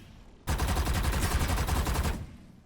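Sustained automatic gunfire from a Valorant match, a dense rapid burst of shots lasting nearly two seconds, loud and close, with no talking over it.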